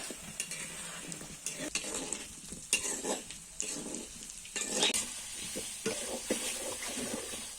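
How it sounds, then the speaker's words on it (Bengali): Salted, turmeric-coated potato pieces fry in oil for aloo dum, a close sizzle broken by frequent scraping stirs and light clatter of a utensil against the pan. "আলু ভাজার জন্য তেল দিচ্ছি এখন আলুগুলো ভেজে নিব"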